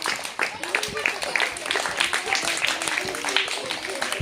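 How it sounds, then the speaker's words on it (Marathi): Schoolchildren clap to cheer on classmates playing a Saturday hopping game of passing a bottle, a busy patter of small hands mixed with constant chatter and voices. "चला जोरात टाळ्या दे त्यांच्यासाठी जरा प्रोत्साहन पडतं त्यांना"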